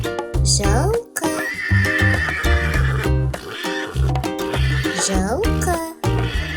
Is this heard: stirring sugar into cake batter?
no